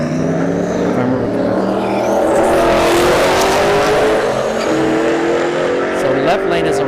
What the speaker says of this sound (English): we have the Turbo 5th Gen Camaro, right lane, S197 Mustang in the left.